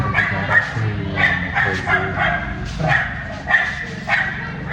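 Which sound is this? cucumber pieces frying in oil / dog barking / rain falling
dog barking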